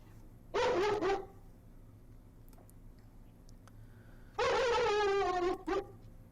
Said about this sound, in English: you'll hear Grizzer do a little bit of a bark call when the vets showed up.